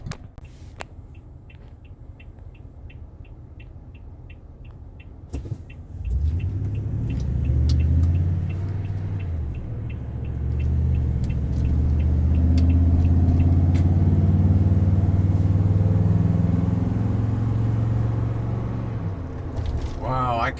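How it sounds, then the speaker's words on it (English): A Toyota Tundra pickup's engine and air intake idling then revving, a deep steady rumble swelling and holding loud for several seconds, starting over quiet clicking and then easing off. "I can seriously hear the engine and the intake properly now"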